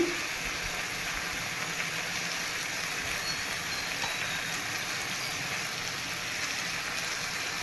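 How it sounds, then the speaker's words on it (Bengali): Ginger paste sizzling steadily in a pan while cooking taro leaves with prawns, a continuous soft frying hiss with no pauses and no talking. "আদা বাটা আমি ভালো করে পুড়িয়ে নিচ্ছি"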